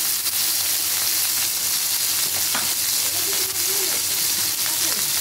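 Chopped tomatoes and salt sizzling steadily in hot oil in a pan, a continuous close frying hiss with occasional stirring scrapes.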